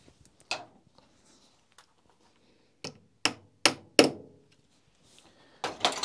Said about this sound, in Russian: Или вот как я молоточком. Чуть-чуть тюкнули.